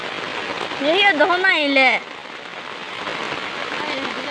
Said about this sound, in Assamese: বৰষুণ দি আছে আমি এইবোৰ পানী খচি খচি আহিলোঁ।